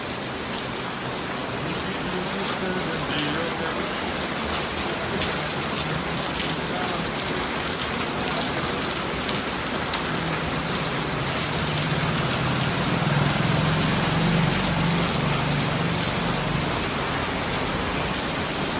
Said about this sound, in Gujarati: જબરજસ્ત વરસાદ ચાલુ થઈ ગયો